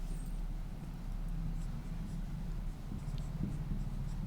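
Pen scratching steadily across the page of a self-help group minutes book, a soft continuous rasp with small strokes and pauses, close and fairly quiet with no talking.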